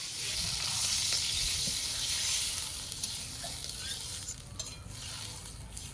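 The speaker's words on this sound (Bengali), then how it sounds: "এখন ঝোলের জল দিব" Spice paste for a fish curry fries hard as water goes into the pan. A loud, dense sizzle builds, then eases into a softer hiss, with no one talking.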